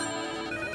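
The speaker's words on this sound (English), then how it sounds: "Everybody's phone is ringing." A telephone rings in a brief steady electronic tone, moderately loud and close, with no other sound.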